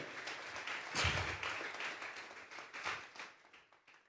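Congregation clapping during a Sunday morning church service, a loose round of hand claps with a strong burst near the start that keeps going unevenly and thins out toward the end.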